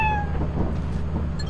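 A cat meows in the video game Lethal Company, a single drawn-out cry that falls in pitch, heard over a steady low in-game rumble.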